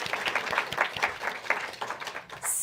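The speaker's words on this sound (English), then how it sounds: "a round of applause" Applause from the audience at a conference workshop on pandemic preparedness research, a short round of clapping with scattered distinct claps that fades toward the end.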